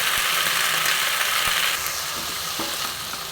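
Red amaranth greens stirred and fried in a pan, a steady loud sizzle with scraping spatula strokes and a few sharp clicks, continuous and close.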